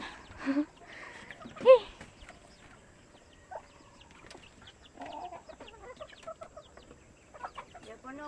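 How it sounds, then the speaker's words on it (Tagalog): Scattered chicken clucks and short calls, fairly faint and intermittent, with a couple of louder squawks early on and quiet stretches between. "Kuya Wades, mga manok ron na manginom na di ay."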